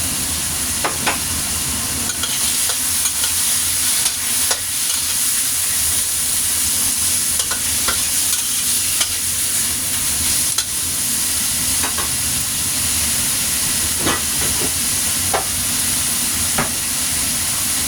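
Chicken thighs fry with lemongrass in a pan, giving a loud, continuous sizzle and hiss with scattered scraping and stirring clicks, close and steady throughout, with no talking.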